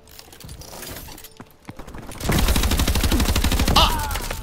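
Rapid automatic gunfire from the video game Call of Duty: Advanced Warfare, a steady loud burst of close shots filling the second half after quieter mechanical clicks and handling noises.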